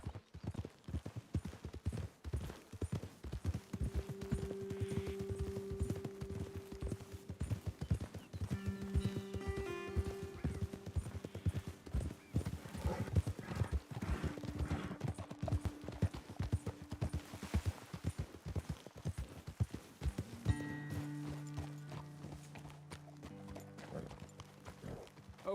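Horses in Red Dead Redemption 2 trotting steadily with rhythmic clip-clop hoofbeats, close and sustained, with occasional whinnies and snorts and background music swelling in places.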